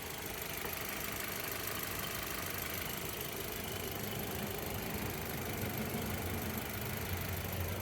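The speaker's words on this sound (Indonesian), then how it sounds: "sekarang kita coba nyalakan mesinnya ya. Untuk kondisi mesinnya seperti ini, mesin sangat halus sekali, bisa didengarkan teman-teman" A 2019 Mitsubishi Xpander Cross MPV with a manual gearbox idles smoothly, its engine giving a steady, even, close-up hum with a continuous mechanical rumble that stays level throughout.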